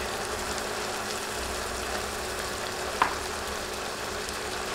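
Potato cubes and spices fry in a pan for vegetable khichuri, a steady close sizzle with one small clink partway through.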